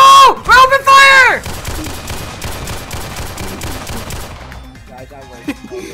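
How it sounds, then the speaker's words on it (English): Rapid gunfire in a Roblox prison-escape game: a loud burst of shots at the start, then a dense stretch of repeated firing, with a few sharp shots near the end and players shouting over it. "We're open fire!"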